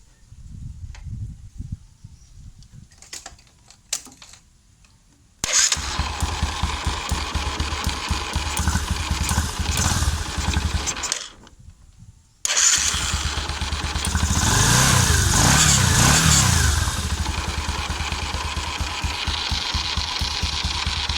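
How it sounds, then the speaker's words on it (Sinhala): A Bajaj Discover 100 motorcycle with a freshly restored carburetor. After a few quiet clicks it starts and runs with a loud, rapid close-up putter, briefly cuts out, then restarts and settles into a steady idle. "අපි දැන් බලමු මේ බයික් එක ස්ටාර්ට් කරගෙන."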